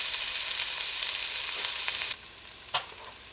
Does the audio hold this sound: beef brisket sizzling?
yes